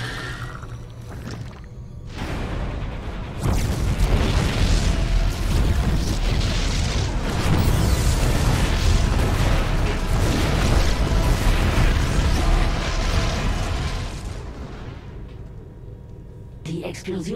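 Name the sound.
explosions in a video game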